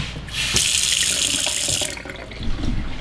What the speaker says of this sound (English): And we got some running water.